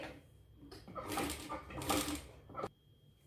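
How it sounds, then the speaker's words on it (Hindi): Sewing machine stitching the lower edge of blouse fabric, a close mechanical whirring run in two rising bursts with a brief pause between, ending in a short clack, no talk. "अब हम नीचे की ओर भी सिलाई कर लेंगे।"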